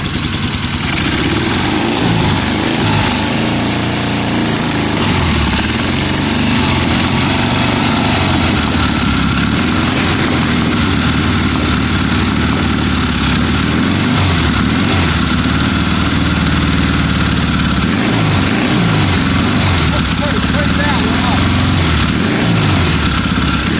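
A 1972 Triumph Bonneville T120 motorcycle with Mikuni carburetors, kick-started, runs loud and close on both cylinders, a steady rumbling idle with slight throttle wavers throughout.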